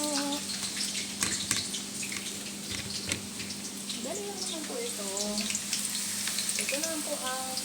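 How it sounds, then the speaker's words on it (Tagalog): Potatoes fry in hot oil in a home kitchen, giving a steady, quiet sizzle. A voice speaks briefly over it. "Fry lang po natin ang mga patata."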